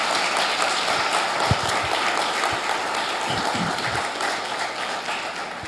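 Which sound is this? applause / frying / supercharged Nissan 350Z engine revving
applause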